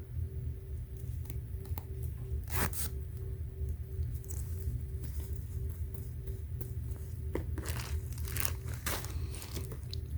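A zipper on a 100% polyester bag is pulled open in close, quiet ASMR detail, with scratchy bursts and crinkling among low background hiss.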